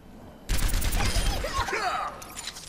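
Hip-fired gunshots in Overwatch burst in suddenly as a dense, loud barrage of cracks and clatter, then thin out into fainter scattered shots.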